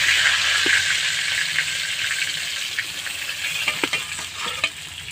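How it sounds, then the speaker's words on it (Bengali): Sarputi fish fry in hot oil, an even close sizzling hiss with scattered pops and light utensil knocks, fading slightly toward the end. "দেখুন লাল করে ভেজে নিয়েছি কি সুন্দর লাগছে দেখতে"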